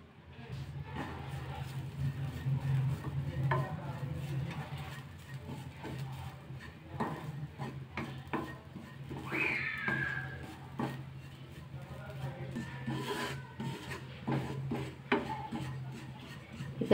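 Grated coconut roasting in a pan while being stirred: faint, steady scraping and rubbing with light clicks of the utensil against the pan over a low hum, continuing quietly throughout.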